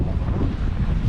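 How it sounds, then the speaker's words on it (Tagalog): Strong wind outside a farmers market in Calgary, Canada roars and buffets the microphone in a continuous, rumbling low rush. "Lakas pa rin ng hangin"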